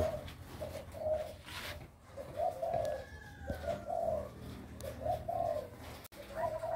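Zebra doves (perkutut) in an aviary coo at midday, repeated soft, rhythmic coos at a steady pace against a faint outdoor background.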